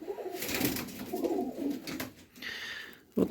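Pigeons coo softly and repeatedly inside a loft kept for breeds such as shamovichki and sheiki, with low murmuring calls, a brief higher chirp and a sharper sound at the end.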